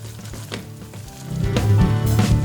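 Oat flour, wholegrain, toasting in a pan for a vegan béchamel, giving a steady close frying sizzle with soft stirring scrapes that grows louder in the second half.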